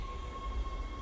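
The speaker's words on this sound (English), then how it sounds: "Tram arriving at flight deck station." Steady low rumble with a sustained electric whine from a tram arriving at a station in the video game Dead Space, continuous and fairly quiet, no voices.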